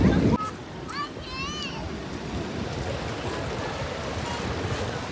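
Rough surf at the beach at The Entrance, a coastal town in Australia, makes a continuous rushing wash of waves with some wind buffeting the microphone. Children's voices ring out briefly at the start.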